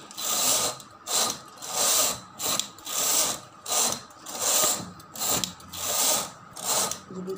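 A hand-operated knitting machine carriage is pushed back and forth across its needles while working a border for a baby girl's frock. It makes a close, regular swishing rattle, one pass about every second, with no talking.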